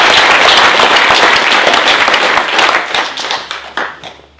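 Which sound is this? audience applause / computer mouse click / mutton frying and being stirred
audience applause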